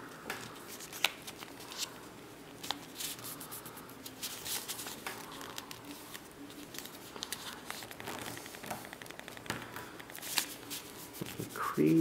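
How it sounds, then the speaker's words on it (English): Origami paper being folded and creased into a crane, with close, soft crinkling, rubbing and sliding sounds spread across the whole span, a few sharper crisp creases standing out, no talking. "Fold it down towards the center."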